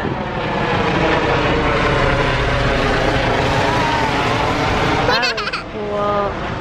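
A helicopter flies over a mall area, its loud continuous rotor and engine roar filling the scene for several seconds before brief shouting voices break in near the end.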